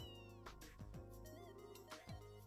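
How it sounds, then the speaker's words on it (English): A cat meows in the video game Trails in the Sky, a few short pitched calls rising over a dense bed of game music and effects. "Estelle, you're talking to a cat."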